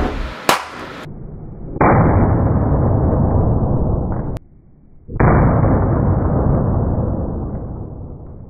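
A double-charge cartridge explodes in a metal-cased gun: a sharp, loud blast at the start, then a second crack a few seconds later, each followed by a sustained, roaring wash of noise.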